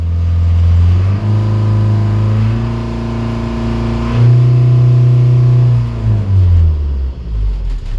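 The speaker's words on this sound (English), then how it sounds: "Something else I wanted to test is how are the RPMs" A Volvo Penta MD21A marine diesel boat engine running loudly up close, its rpm stepping up, holding, then rising again before dropping back to idle, with no talking.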